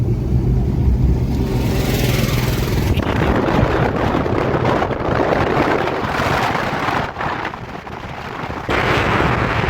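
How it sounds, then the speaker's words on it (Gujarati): A mini tractor drives past on a village road near a temple site, its engine a steady loud rumble with a brief dip as it crosses close by, set against wind and outdoor noise. "મિની ટ્રેક્ટર આપણાથી આગળ ક્રોસ થઈ રહ્યું છે."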